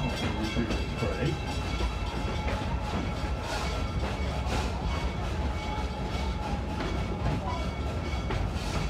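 The Serengeti Express amusement park train at Busch Gardens rumbles steadily along its rails with a constant rolling clatter, no breaks or horn, heard from on board.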